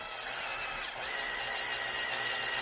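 A cordless drill with a cobalt bit grinds steadily into the steel steering lock of a Yugo Sana, a continuous close whine with a brief dip partway through.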